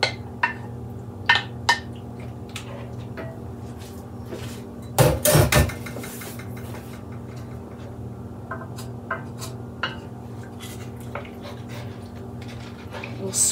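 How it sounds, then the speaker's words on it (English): Browned stew meat and its juices go into a pot of beef stew and a utensil scrapes the bottom, giving several clanks and a burst of scraping midway beneath a steady kitchen hum, with a voice talking. "We'll scrape the bottom to get all those nice browned bits up"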